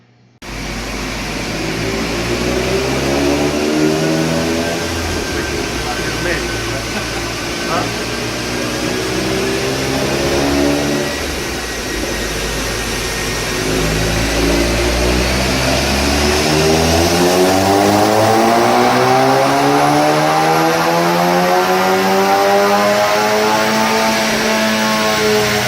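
2015 VW MK7 GTI with an IS38 turbo upgrade on a dyno, its engine droning loud and steady, climbing in pitch through the run with rising harmonics, then peaking near the end.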